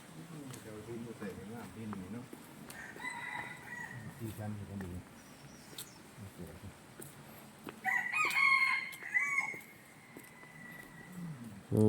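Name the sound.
junglefowl crowing at a forest temple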